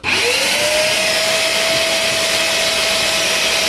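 A vacuum cleaner sucks at a blocked drain pipe, its motor spinning up quickly into a loud, steady whine with rushing airflow that holds throughout.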